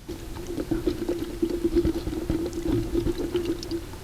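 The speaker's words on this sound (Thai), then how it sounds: "เราควรที่จะคนให้กากน้ำตาลเนี่ยละลาย" Molasses being stirred into a kaffir lime ferment, an insect-repellent brew, giving soft liquid sloshing and repeated scraping strokes at an uneven rhythm over a steady low hum, close by and with no talking.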